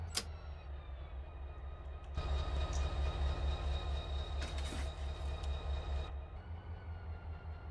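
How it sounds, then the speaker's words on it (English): A freight train backs up in the Run8 Train Simulator game: steady low engine rumble with rolling rail noise that swells louder midway, a few metallic clanks, then settles, with no talking. "Alright, let's back this train up."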